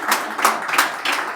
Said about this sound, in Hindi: सबसे पहले तो एक बार ज़ोरदार तालियों से स्वागत कीजिए हमारे सर का